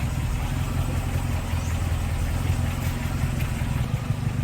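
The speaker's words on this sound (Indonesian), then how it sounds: "Kalau mesinnya halus banget, kapasitas 1300 cc, halus." Used car with a 1300 cc engine idling smoothly at close range, a steady low rumble with an even, unbroken hum.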